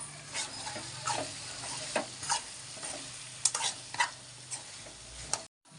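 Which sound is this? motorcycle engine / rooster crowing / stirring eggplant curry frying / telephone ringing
stirring eggplant curry frying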